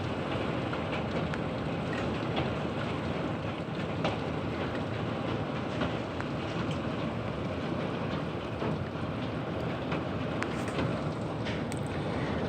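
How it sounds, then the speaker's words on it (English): Hail pounds a roof during a tornado-warned storm, a dense, steady roar of countless impacts that continues without pause throughout, loud and close, with no voices. "You can hear the hail hitting the roof right now."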